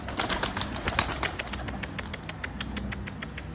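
Pigeons flap their wings in rapid bursts, a rhythmic fluttering that comes close and then fades into lighter, quicker beats.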